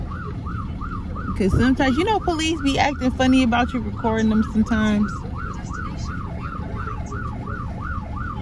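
A police siren wails in a steady repeating up-and-down cycle throughout, loud and fairly near on a street outside a book fair in Cairo, while a person talks over the first half.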